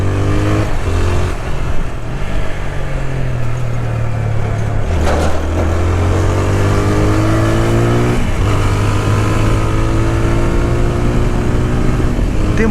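A 2026 TVS Apache 160R motorcycle engine drones loud and close, rising through the revs as it accelerates, with a brief drop at each gear change before pulling upward again.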